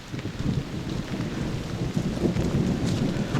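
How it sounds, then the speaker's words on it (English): Heavy rain pours down outdoors during a thunderstorm near a forest cabin shelter, a dense steady patter with low rumbles of thunder rolling underneath and rising toward the end. "It is beginning to pour."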